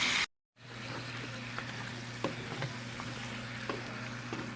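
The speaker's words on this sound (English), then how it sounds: "And we're going to give that a stir." Spare ribs in chipotle sauce with bay leaves simmering and sizzling in a pot as they are stirred, a steady bubbling hiss with soft scrapes and clicks after a brief silent gap at the start.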